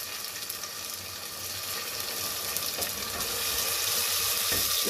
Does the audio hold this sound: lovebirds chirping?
no